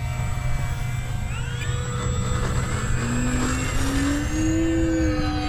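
A Flex Innovations Mamba 10 G2 RC airplane runs its electric motor during a maiden-flight takeoff, a steady buzzing whine that rises in pitch as the throttle comes up, over constant outdoor background noise.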